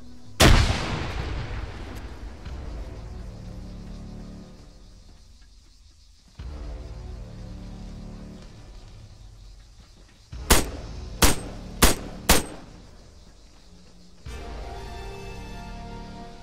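Gunfire during an Arma 3 combat engagement: an early heavy boom, then four sharp, loud shots in quick succession over a rumbling battlefield background with engine-like drone.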